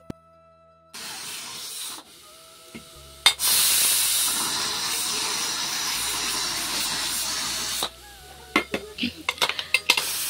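A pressure cooker boiling lentils (dal) on a home kitchen stove lets out a steady, loud hiss of steam lasting several seconds, framed by clattering pots and dishes before and after.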